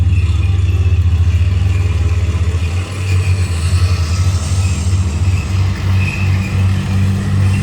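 A Leopard tank at a museum tank show rumbles as it drives and pulls back, a loud, steady low engine drone with clattering tracks and slight surges in revving, heard without any talk.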